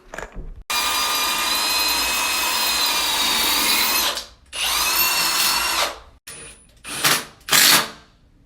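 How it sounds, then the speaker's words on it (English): A loud, steady whine of an impact drill boring into a concrete basement floor, running long twice, then a few shorter bursts as it stops and starts. "an impact drill, and it's made for drilling into concrete."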